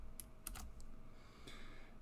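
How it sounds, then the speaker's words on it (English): A computer keyboard clatters faintly as a password is typed, with a few separate quick keystrokes and short bursts spaced irregularly over quiet background hiss. "I'm going to type my password off the screen"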